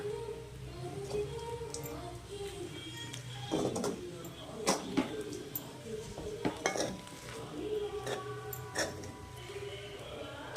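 Roasted peanut powder being stirred into sabudana khichdi in a pan, giving scattered clinks and scrapes of a spoon against metal with short rattling bursts over a steady low kitchen background, close and moderately loud.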